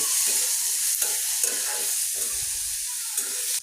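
Chili, onion and garlic frying in a pan while being stirred, a constant close sizzle with rhythmic scraping strokes of the spoon repeating through the stretch.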